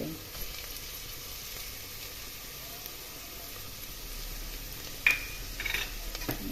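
Ginger and garlic frying in oil for a cluster bean pulao, a low steady sizzle running throughout with a brief sharper crackle near the end, no talking.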